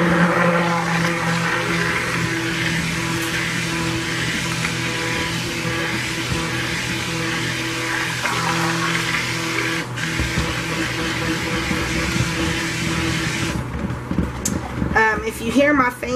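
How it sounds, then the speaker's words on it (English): Kitchen blender mixing cold process soap batter, a steady continuous whir running for most of the stretch, loud and close, with a fan humming in the background and a changing note near the end. "Alright, let's get this blended up."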